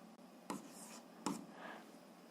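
Pen or chalk scratches out the number 5 in a 7th-grade algebra equation, written by hand. Two short, distinct strokes stand out over a quiet background.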